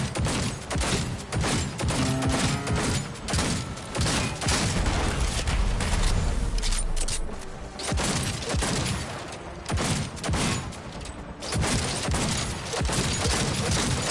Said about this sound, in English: Who's shooting? Folk up there.